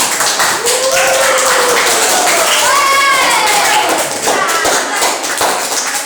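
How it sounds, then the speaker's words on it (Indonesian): A group of people claps steadily in a classroom after a group discussion presentation while children's voices chatter over the applause. "Tepuk tangan."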